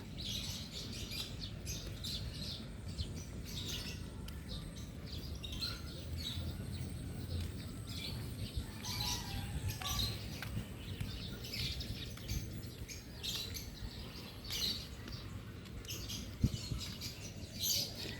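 Birds chirp and tweet repeatedly in a quiet rural field, short high calls scattered over a soft steady background hush.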